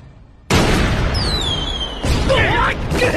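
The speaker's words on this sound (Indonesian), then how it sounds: "boneka itu menembakkan meriam ke arah geng Tokugawa" A sudden loud cannon blast erupts, followed by a whistling streak and a second heavy burst, with dense rumbling noise throughout.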